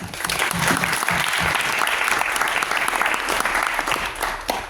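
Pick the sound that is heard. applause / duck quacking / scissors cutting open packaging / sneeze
applause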